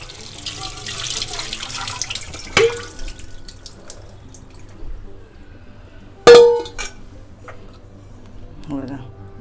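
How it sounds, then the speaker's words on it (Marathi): Stuffed pomfret fish being rinsed under running tap water on a kitchen counter, with steady flowing water, a couple of sharp clinks and splashes, and a voice speaking over it. "हे परत असे मी ओट्यावर ठेवून धुवून घेते"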